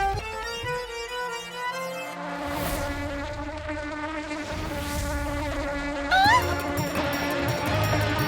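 A single ordinary honeybee in an animated moral story hums steadily for several seconds, a close, continuous insect drone blended with a layered musical score, with no voices over it.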